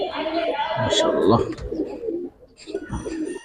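Giribaz pigeons coo in a loft, low throaty calls close by, mixed with wing flutters and rustling while someone talks over them.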